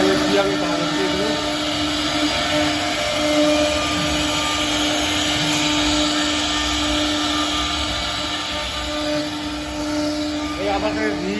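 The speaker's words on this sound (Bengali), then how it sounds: "দেখুন একটা মেশিন চালানো হচ্ছে, সেই মেশিনের দেখুন অপারেটর মেশিন চালাচ্ছে" CNC machine running in a furniture workshop, a loud continuous whine and rushing drone with steady tonal hum lines, filling the room throughout while a voice talks over it.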